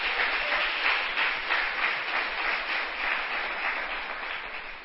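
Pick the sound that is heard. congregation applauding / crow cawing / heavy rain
congregation applauding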